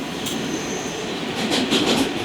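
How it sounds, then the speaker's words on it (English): A train passes close by with a steady rumble and rattle of wheels on the rails, a faint squeal rising toward the end, and no talking. "Just trying to figure out which way this train is going."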